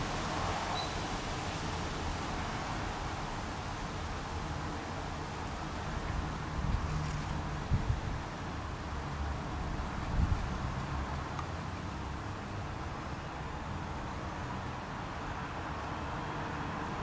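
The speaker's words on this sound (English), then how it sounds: "A bit windy." Steady outdoor wind blowing across a microphone near a fence where a squirrel is munching, a broad continuous rushing hiss with a couple of faint gusty bumps, fairly quiet and without talk.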